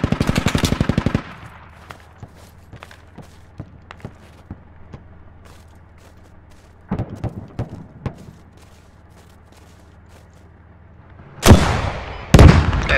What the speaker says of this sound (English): Oh, that's the tank shooting me.